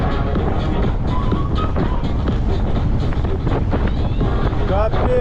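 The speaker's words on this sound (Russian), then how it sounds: "Встречный ветер продолжается." Strong headwind buffets the microphone during a June ride in Crimea, a loud continuous roar of wind noise that fills the whole stretch with constant low rumble.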